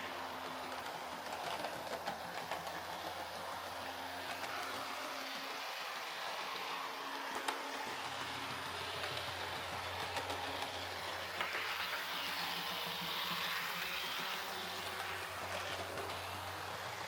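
An old Lima model diesel locomotive runs on track with its original motor, giving a steady, close motor whir and a continuous rolling rattle of wheels over rail joints, alone without talk.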